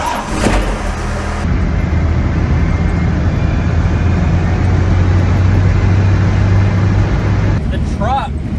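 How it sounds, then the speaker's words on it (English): A first-generation Cummins diesel truck drives along with a heavy, droning road rumble and rattling from a bad shake, loud inside the cab, with brief voices at the start and end. "The truck is shaking like crazy."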